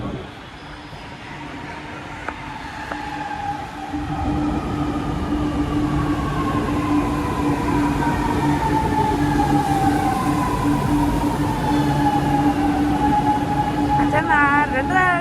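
A Chennai metro train rolls in with a loud, steady rumble and rising whine, brakes squealing faintly as it slows, while people talk nearby.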